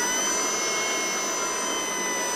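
An Ego battery-powered lawn mower motor runs with the blades removed, giving a steady, close, high-pitched electric whine that holds constant throughout with no talking.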